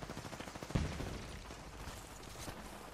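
Rapid gunfire rattles in a firefight in the video game Apex Legends, fairly quiet, with a sharper shot standing out in the middle of the repeated bursts.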